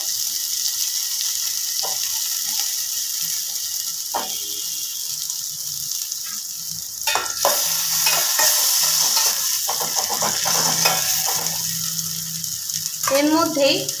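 Chopped garlic sizzles steadily in hot oil in a pan for an egg curry, with intermittent scraping stirs and clinks of a utensil, close and fairly loud throughout.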